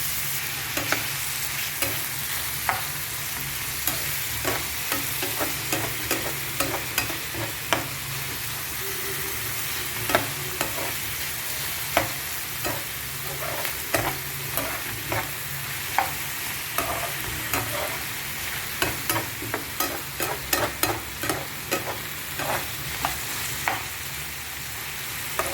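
Tomatoes sauté for kadai mushroom, a low steady sizzle in the pan under frequent sharp clicks and taps of a spatula stirring and scraping, close and fairly quiet over the long stretch.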